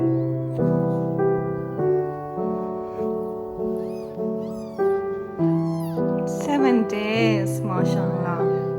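Newborn kittens give thin, high mews in short bursts, heard over louder background music with sustained tones.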